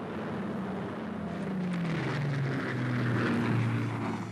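A de Havilland DH-98 Mosquito, a British twin-engine propeller aircraft, drones steadily overhead, its engine note rising and slowly shifting pitch as it passes at moderate distance.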